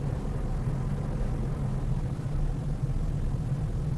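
A car engine hums steadily as a learner drives slowly along a road, a continuous low rumble with a constant drone and no sharp changes, heard from inside the car.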